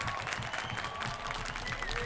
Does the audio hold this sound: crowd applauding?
yes